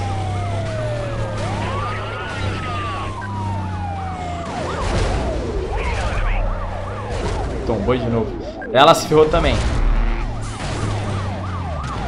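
Police sirens wail and warble in a chase in NFS Most Wanted: several overlapping sirens sweep up and down over a droning car engine and crash noises, while someone talks over them.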